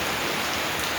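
Steady rain falls throughout, a dense, even hiss of drops with no breaks and no voices.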